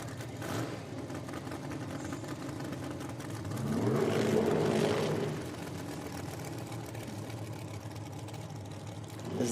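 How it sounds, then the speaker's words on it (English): Nitro drag racing cars roar through burnouts at a drag strip, heard as a distant, steady engine drone that swells to a louder roar midway before settling back. "As the next pair complete their burnouts and back up."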